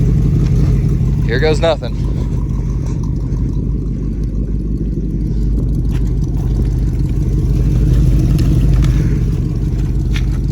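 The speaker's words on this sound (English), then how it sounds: "We're gonna try to get a tire broke loose here." A junkyard Oldsmobile Cutlass engine revving hard while trying to spin a tire, a loud, steady low rumble up close throughout, with someone speaking briefly near the start.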